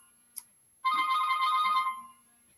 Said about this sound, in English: Oh, we have a phone call coming in